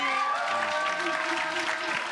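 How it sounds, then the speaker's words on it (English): Audience at a short film premiere in a Rivington Street venue applauds the artists, a continuous wash of clapping with some voices and faint cheering mixed in, steady and moderately distant. "Can we please give them a round of applause, please?"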